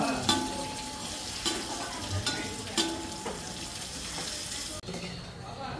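Onion, cumin, garlic and curry leaves sauté in a pan for a village-style country chicken gravy, a steady hiss of frying with spoon stirs and scrapes, ending in a brief sharp clatter near the end.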